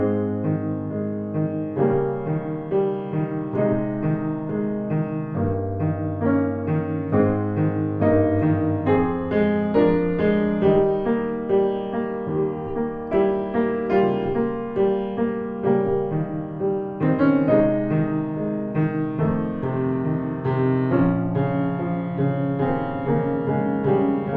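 Piano chords and melody played continuously with uneven finger weight and weak pinkies, giving somewhat uneven note loudness, solo with no voices.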